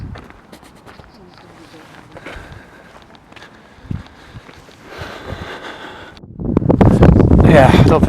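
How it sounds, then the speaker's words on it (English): Quiet outdoor rustling and a few soft footsteps at Bolsover Castle, Derbyshire, then strong wind gusts buffet the microphone loudly toward the end. "This will be really windy, this bit. It's coming towards me, the wind is."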